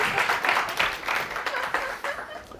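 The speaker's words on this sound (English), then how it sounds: "Great applause to you." Lecture audience applauding at a public talk on global warming, a moderate wash of clapping that holds steady and then begins to thin toward the end.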